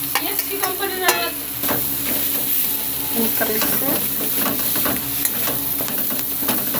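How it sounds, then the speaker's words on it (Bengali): Pointed gourd filling with mashed potato, salt, turmeric and cumin powder fries in a pan. A steady sizzle runs beneath frequent scraping and clinking from the spatula as the mixture is stirred, close and fairly loud. "একটু নেড়ে চেড়ে ভেজে নেবো ভালো করে"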